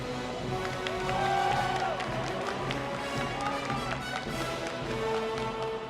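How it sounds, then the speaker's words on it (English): A StarCraft II esports crowd at IEM São Paulo cheers and murmurs steadily throughout, with scattered claps and a few louder shouts rising over a busy, continuous background. "So good to hear the crowd cheering for both of the players."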